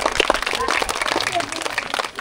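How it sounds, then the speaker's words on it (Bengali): A village crowd at a chair game claps in a scattered, continuous patter of applause, mixed with chatter and voices close by. "আচ্ছা সবাই একবার হাততালি দিয়ে দেন তো। হাততালি দিয়ে উৎসাহিত করবেন সবাই।"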